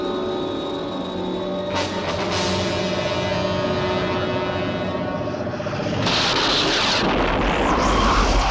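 A destroyed target explodes in the TV series UFO: a continuous rumbling blast with a bright crack partway through, then a second burst of hissing debris and deep low rumble building toward the end.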